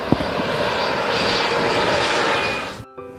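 An aircraft engine drones loudly and steadily at close range, a constant roar that cuts off abruptly near the end, leaving a brief low hum.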